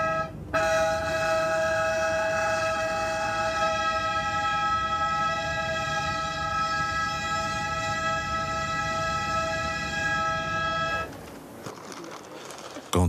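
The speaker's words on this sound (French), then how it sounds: "Et c'est là qu'on va commencer à klaxonner surtout." A train sounds a sustained multi-tone horn blast close by in the countryside near Auriac in the Massif de Mouthoumet, loud and steady for about eleven seconds before cutting off to quieter rumbling.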